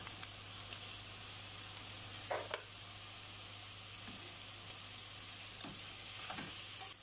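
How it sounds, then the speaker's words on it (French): Smoked lardons frying in butter give off a steady, soft sizzle and hiss, broken now and then by faint stirring taps. "Je rajoute le beurre. Les lardons fumés."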